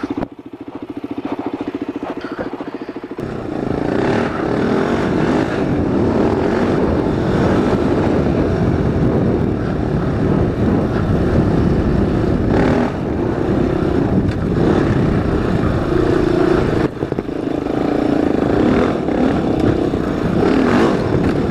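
A Honda 400EX quad engine revs loudly while being ridden, starting quieter then surging into a sustained rough roar with rising and falling throttle and brief dips, close up with wind noise.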